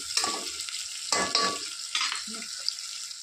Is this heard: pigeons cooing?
no